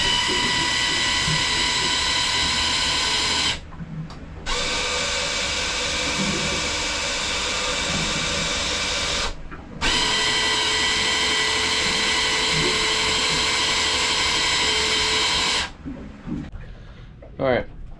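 Electric actuators on a boat whirring and grinding mechanically in long sustained runs, stopping briefly between strokes, loud and close in an enclosed space.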